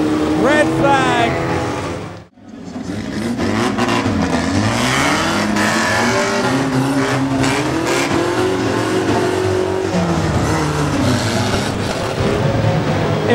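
Pre-1970 National Banger stock cars race around the Mildenhall oval during a heat: a loud, continuous roar of several engines revving and surging together, close by, with a commentator talking over the noise.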